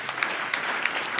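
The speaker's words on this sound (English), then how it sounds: "maybe we can have a round of applause for them" Audience applause at a plenary conference session, a steady wash of many hands clapping together for about a second, moderately loud and without talk.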